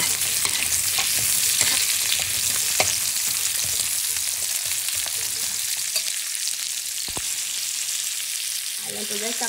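Sweet potato frying in a pan gives a steady, close sizzle, with scraping stir strokes cutting in now and then throughout.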